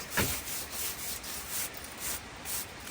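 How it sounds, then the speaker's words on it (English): Stiff brushing sweeps scraped lime mortar off a stone wall in Scotland, a soft, close, rhythmic scrubbing of repeated strokes. "So what we'll do is just brush off what we've scraped."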